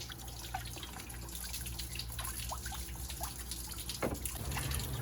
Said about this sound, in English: You'll stick your garden hose now in the bottom hose, and then you'll see it come out the top, as it just reverses right through the radiator